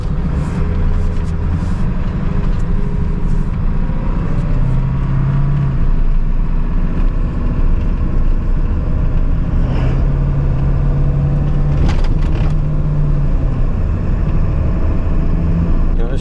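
A 1996 Ford Powerstroke diesel truck engine idling roughly and steadily at close range, with a continuous low drone and occasional uneven surges, its loudness holding level throughout.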